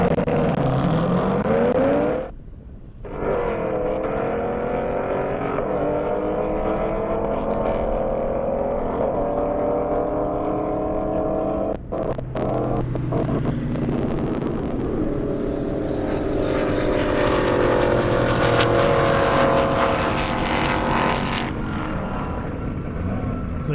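Drag racing cars, among them a ZL1 Camaro, roar down an airstrip at a racing event, a loud continuous engine drone with rising revs and passing surges, a brief dip early on, and the full blare sustained to the end.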